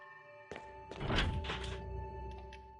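A locked door in a Resident Evil video game gives a heavy thunk followed by a rattling, thudding clatter that lasts about a second and a half over a steady background hum.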